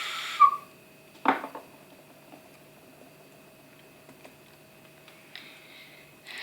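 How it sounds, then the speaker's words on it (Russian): A ceramic clay whistle (svistulka) gives a few short, separate shrill toots, with quiet room noise between the blasts and no talking. "Но в конце наши свистульки все же засвистели."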